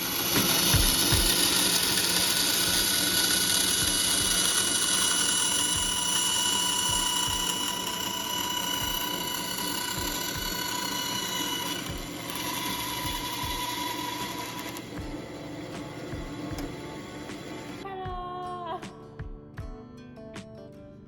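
A bandsaw blade runs steadily through a curved cut in a workpiece, a continuous bright whine with a low motor hum, fairly faint, before the machine winds down near the end.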